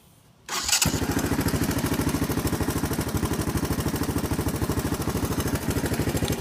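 A 1984 Honda Big Red three-wheeler ATV, its cracked body patched with fiberglass, catches after a brief crank and settles into a steady, loud, close-up engine idle with an even, rapid thumping pulse.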